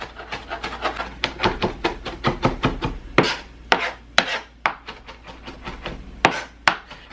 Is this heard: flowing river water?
no